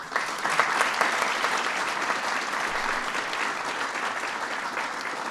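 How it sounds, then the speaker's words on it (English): Guests at the 2011 White House Iftar dinner give a big round of applause, a continuous wash of many clapping hands, crisp and even from start to finish with no talk over it. "Please give them a big round of applause."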